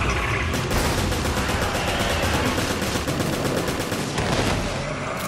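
Dense, continuous automatic gunfire from the Resident Evil Revelations video game, loud and sustained for the whole stretch with overlapping bursts and no pauses.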